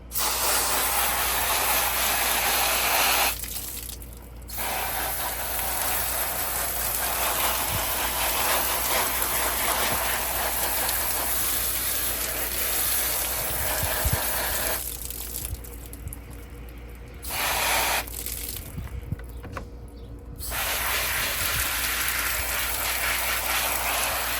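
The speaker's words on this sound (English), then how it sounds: "Then I'll grab the hose and I'll just spray it out." A garden hose sprays water to rinse out a Wybot S1 pool robot, a loud, close hiss that runs continuously apart from a few short pauses as the spray stops and restarts.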